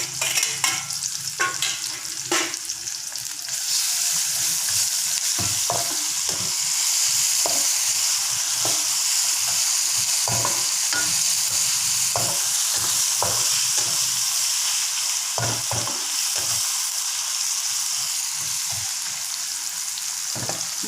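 Ginger and garlic frying in a pan for a raw jackfruit stir-fry, a steady loud sizzle with scattered stirring scrapes, close and without talk.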